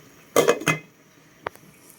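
Metal pot lid clatters against a cooking pot of sinigang na bangus: two quick clanks close together, then one lighter tap a moment later, over a quiet background.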